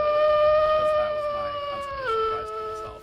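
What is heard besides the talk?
wolf howl stream sound alert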